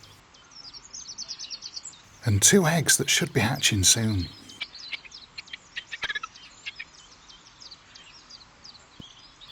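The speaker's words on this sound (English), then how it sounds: "These robins have 2 newly hatched chicks" Robins at a garden nest with newly hatched chicks give faint, scattered high chirps and tweets amid outdoor ambience, continuing under and after a few seconds of close speech.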